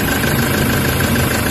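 A Toyota HiAce engine with a check-engine fault idles with strong vibration, giving a loud, steady, rough drone that continues without a break and without voices.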